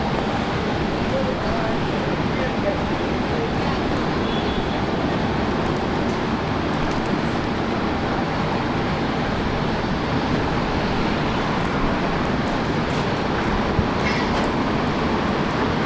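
A Jetstar airliner takes off from runway 19 left at Brisbane Airport, a loud steady engine roar with broadband rumble that holds for the whole stretch, a voice faintly audible underneath.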